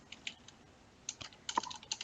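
Keys tapped on a computer keyboard while an email is typed, scattered clicks in short irregular bursts, close by and fairly quiet, with no talking.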